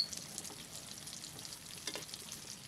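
Siomai frying in a pan at home for breakfast, a steady, soft sizzle of oil with faint crackles throughout, fairly quiet and with no talking.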